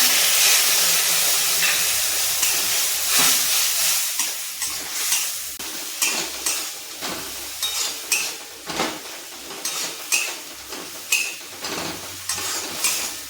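Water hits a hot cooking pan in a home kitchen during a sea-fish curry with brinjal and lentil dumplings, giving a loud steamy hiss that fades into repeated spoon-and-pan scrapes and clinks.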